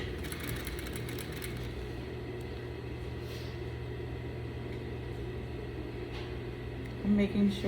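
A sewing machine hums steadily while stitching down the seam allowance on a French vent, a low continuous whir with faint mechanical ticks, and a brief louder burst at the end.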